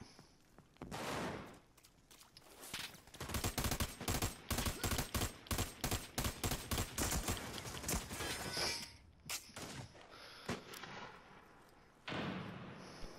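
Gunfire in the shooter game America's Army: Proving Grounds: sharp, loud shots crackle in a dense rapid volley, then thin out into scattered single reports.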